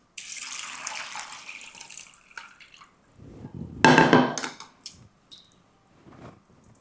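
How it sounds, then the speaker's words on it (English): Water pours into a bowl in a short, splashy burst midway, with a faint running-water hiss beforehand and a few small clinks and drips afterward. "I'll pour water into"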